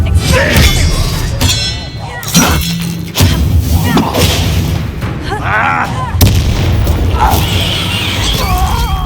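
Bombarda blast spell cast in Hogwarts Legacy during combat, loud booming explosions and impacts repeating over dense game music and effects, with a voice shouting between them.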